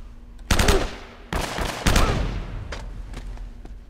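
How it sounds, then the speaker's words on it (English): Gunfire in Uncharted: Drake's Fortune, with three loud shots or short bursts, each ringing out into a decaying tail, followed by quieter scattered shots. "That's a lovely sounding gun."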